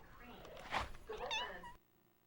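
A cat meows a couple of times, its harmonic cries rising and falling at close range, then the sound cuts to near silence.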